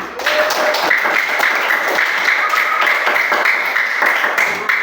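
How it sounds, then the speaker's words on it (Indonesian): Loud, sustained clapping from a classroom of students applauding a classmate, dense and even for several seconds with no talk over it. "tepuk tangan dulu untuk temannya"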